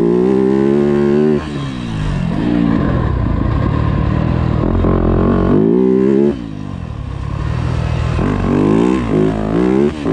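A Yamaha YZ250F motocross bike rides a dirt track, its engine revving up and down loudly and close throughout, with throttle surges and drops in a continuous run.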